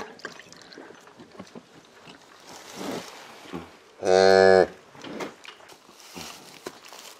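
A cow gives one loud, drawn-out moo in a quiet farm setting, while the animals are watered by hand; faint shuffling and low movement noises surround it.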